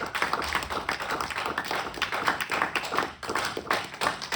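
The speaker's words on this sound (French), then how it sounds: "Est-ce qu'on peut applaudir le Seigneur?" A church congregation claps steadily and continuously, a dense, fairly distant wash of many hands applauding without pause.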